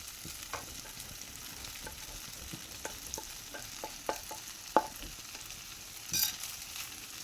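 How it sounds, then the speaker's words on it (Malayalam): Semiya upma with roasted egg stirred in a pan, with soft scattered scrapes and clicks of a spoon over a faint sizzle, ending in a brief louder clatter. "എല്ലാം കൂടി ഇട്ട് കൊടുത്തൊന്ന് ഇളക്കി കൊടുക്കാം"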